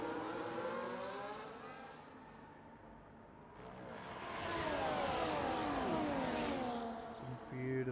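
Several race cars jostle together in the middle of the pack in a league racing game at the Spain round, engines droning and swelling as they pass, with commentators talking over the steady motor noise throughout.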